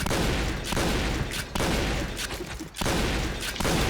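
Gunfire in a TV series: dense bursts of rapid shots fired in long volleys, loud and close, separated by brief gaps.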